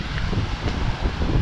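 Strong wind gusting across a beach campsite at Dinahican, Infanta, Quezon, a steady loud low roar buffeting the microphone with no breaks.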